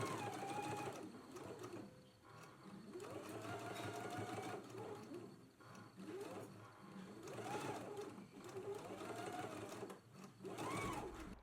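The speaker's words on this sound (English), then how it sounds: "let's go ahead and stitch right along the edge of the pocket" A sewing machine stitches along the edge of a t-shirt pocket in repeated bursts, its motor whine rising and falling over several runs with short pauses between.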